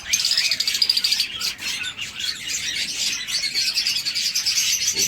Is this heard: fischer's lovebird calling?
yes